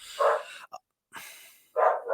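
Dogs bark indoors, two strong close barks at the start and end with a short yip and a breathy sound between them.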